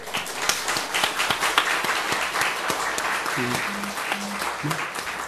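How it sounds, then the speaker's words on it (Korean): A church congregation at a Sunday service claps together in a sustained round of applause, dense and lively with individual claps standing out, while a pastor speaks over the last seconds. "알아서 박수도 칠 줄 아시는군요."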